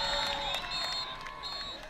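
A high school football crowd at Lomira murmurs and cheers from a distance, a blended faint roar with scattered shouts, rising briefly and then settling.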